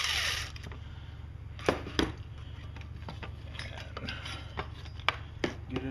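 A ratchet loosening the flywheel cover screws on a small engine, a few sharp clicking bursts and ticks spaced irregularly over a steady low hum, fairly close and without talk.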